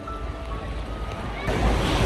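Ocean waves break and wash onto the sand at Southern Beach in Chigasaki, Japan, on a summer day: a steady, close rushing surf with wind buffeting the microphone, swelling into a louder surge near the end.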